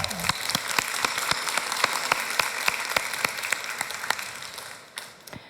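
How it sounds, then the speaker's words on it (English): Warm audience applause at a 2023 startup conference on the defence sector, a steady dense patter of many hands clapping that carries on for several seconds before tapering off near the end. "Warm applause to Teep Kana."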